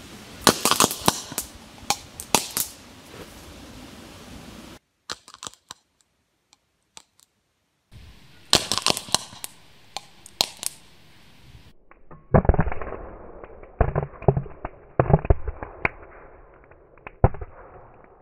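Caesium reacting explosively with bromine, a series of sharp crackling pops and bursts in irregular clusters, with brief quiet gaps between loud spells and a duller crackle toward the end.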